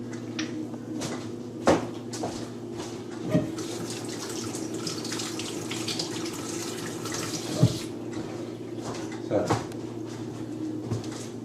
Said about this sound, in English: So let me just rinse my hands.